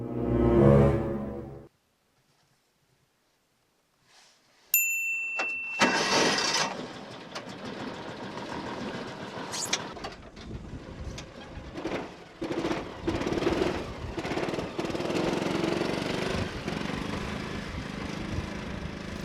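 A John Deere 4x6 Gator utility vehicle engine starts, then runs and drives laboring through snow, a steady mid-pitched engine drone with fluctuating revs.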